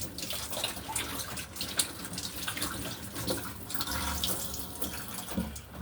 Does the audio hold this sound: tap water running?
yes